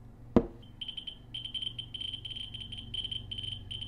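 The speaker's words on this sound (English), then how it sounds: "there's no way to acknowledge the alarm on this detector besides to just go in and actually turn the alarm off" Beeping alarm on a radiation detector: a sharp click, then a rapid, steady run of high-pitched electronic chirps that repeats in quick bursts at close range, with no talking.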